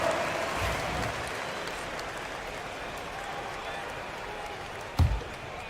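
A home crowd in a basketball video game cheers and applauds in a steady, broad roar that fades slightly, with a sharp thump near the end.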